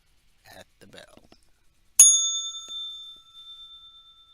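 A single bright bell strike marks the trading market opening, ringing out sharply and decaying slowly over a couple of seconds after a few faint murmured words.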